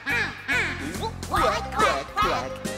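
A duck quacks in a lively run of bright, nasal quacks that rise and fall in rhythm over a steady musical backing, loud and close.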